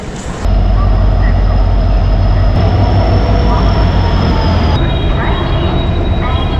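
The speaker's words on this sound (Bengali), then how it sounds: "পিছনে উনিশ নম্বর প্ল্যাটফর্মে কিন্তু আমাদের ট্রেন দিয়ে দিয়েছে চক্রধরপুর এক্সপ্রেস" Chakradharpur Express standing at platform nineteen of a busy railway station, giving a steady loud low rumble of idling locomotive and station bustle with a faint high whine throughout.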